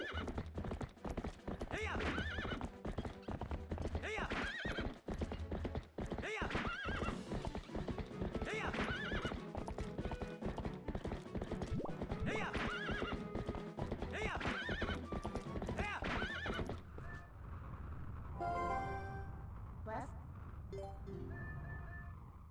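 Horse hooves clip-clop steadily and a horse neighs in Twilight Princess HD, loud and continuous, with the hoofbeats dropping away near the end while other game sounds continue.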